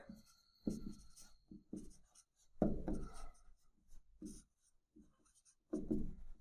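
A pen scratches out a handwritten math solution on paper, with short bursts of scribbling separated by pauses, close and fairly quiet.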